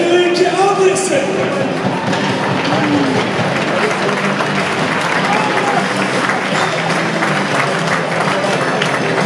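Steady applause from a large ice hockey crowd as players are introduced, continuous and dense throughout, with a faint voice carrying over it near the start.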